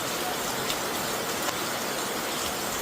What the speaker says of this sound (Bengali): বাইরে হচ্ছে মুষলধারে বৃষ্টি আজকে